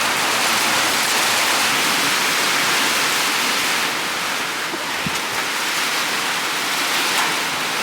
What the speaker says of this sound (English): the heavens just opened and it is now absolutely pouring